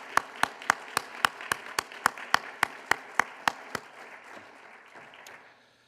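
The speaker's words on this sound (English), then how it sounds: "I also want to give you another round of applause for all of your work." Slow, sharp claps ring out one at a time at a university president-elect press conference, a sparse steady rhythm of roughly fifteen distinct hand claps that tapers off into quiet room tone.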